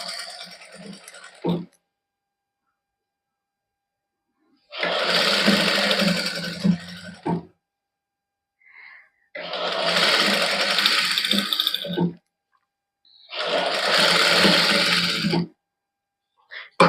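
A sewing machine stitches mesh lace onto a printed suit, running in three long bursts of steady whirring with short quiet pauses and faint handling sounds between them.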